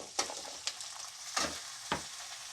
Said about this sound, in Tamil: இப்போ இதை நம்ம சிக்கனும் உருளைக்கிழங்கும் சேர்த்துக்கலாம்.